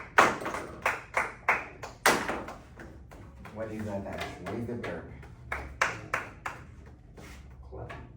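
A teacher demonstrates hand clapping during a movement lesson: sharp, close claps in short bursts, a few near the start and a few more later, with the teacher talking between and over them.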